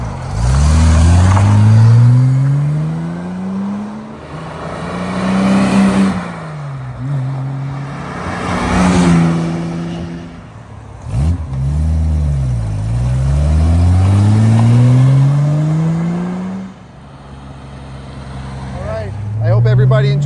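A 1965 Jaguar E-type 4.2 liter roadster makes repeated passes, its engine rising and falling loudly as it sweeps by, with people talking over the engine noise.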